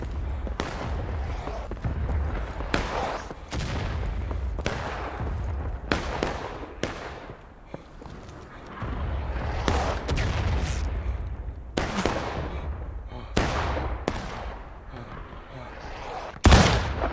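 Artillery barrage in the Civil War battle game War of Rights: repeated booming cannon blasts, some close and loud, others distant, rolling over constant battlefield din and faint voices.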